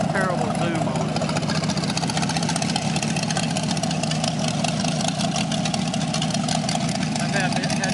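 A 1967 Corvette 327/350 L79 V8 with a cam and open headers idles steadily close by, its loud, lumpy exhaust burble continuous with no pauses.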